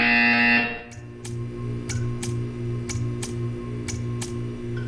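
A sharp electronic buzzer tone in Portal 2 sounds briefly, then stops and gives way to a steady low hum with a series of evenly spaced ticking clicks.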